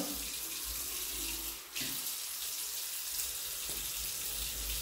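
Tap water runs steadily from a faucet into a sink while someone wets their face during a skincare routine, a continuous close splashing hiss with no talking.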